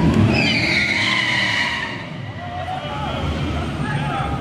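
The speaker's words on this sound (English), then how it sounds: "Camaro versus Camaro. I think they're both ZL1s." Chevrolet Camaro ZL1 cars at a drag strip at Memphis International Raceway, with a loud broad engine roar and a squealing tire sweep early on, fading into crowd and track noise.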